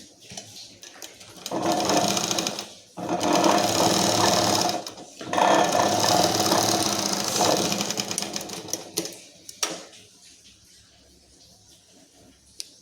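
A sewing machine runs in several bursts, stitching a double tip back and forth on fabric to secure the seam, with short pauses between runs and a final brief burst, loud and close with no talk.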